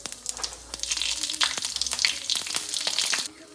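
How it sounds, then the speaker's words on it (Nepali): Carom seeds, cumin and asafoetida crackle and sizzle as they drop into hot oil, a short burst of sharp pops over a frying hiss that stops abruptly. "तेल तातिसकेको छ। यसमा म चाहिँ थोरै ज्वानो, जिरा अनि हिङ पुर्याइदिन्छु है।"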